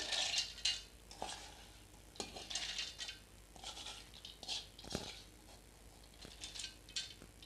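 Soaked urad dal is spooned into a mixer jar for vada batter, giving soft, faint scraping, wet shuffling and light metallic clinks of a spoon against the jar at irregular intervals.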